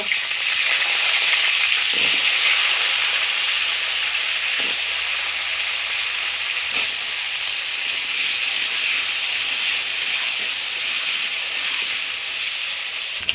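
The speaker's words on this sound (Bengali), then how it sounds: "ওই তেলে আমি আলুগুলো ভেজে নেব।" Potatoes fry in hot oil with a loud, continuous sizzling hiss that holds steady and close, broken now and then by faint soft knocks, with no voices.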